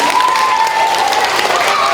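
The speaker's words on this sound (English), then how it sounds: "How about a nice round of applause for our friends, please?" Schoolchildren at JFK applaud their police officer visitors during a classroom presentation, a dense, continuous wash of clapping filling the room, with a faint steady tone ringing underneath.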